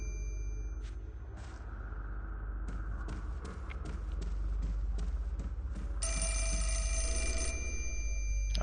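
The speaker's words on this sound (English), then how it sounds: "Oh, phone." A telephone in the Fatal Frame video game rings in repeated short electronic bursts, then a louder sustained trill near the end, heard alone over a low steady hum.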